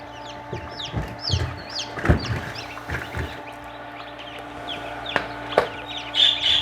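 Chickens cluck and chatter nearby in short, scattered calls, with a steady background hum and a few sharp knocks.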